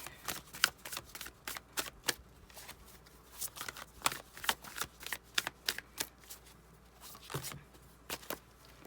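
Tarot cards being shuffled by hand in quick, irregular bursts of crisp riffling and slapping, close and fairly quiet, with no talking.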